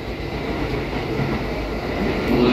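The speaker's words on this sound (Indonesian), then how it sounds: "datang di kereta KAI Komuter" A KAI Commuter electric train runs from Bogor to Jakarta, a steady loud rumble of wheels and rails heard from inside the car, with faint squeals near the end.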